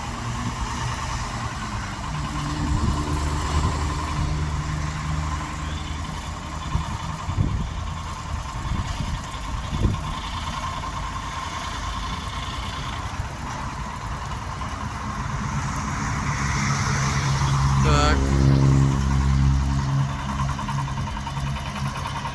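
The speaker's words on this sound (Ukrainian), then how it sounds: "Зараз проводимо тестування трактора на майданчику." A small mini tractor engine runs steadily with a low, chugging rumble throughout, rising slightly in intensity toward the end, over faint outdoor background noise at a test yard.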